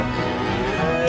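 A bull lets out a sustained low moo with a rising, tonal quality, holding steady and fairly loud for the whole second, with no speech over it.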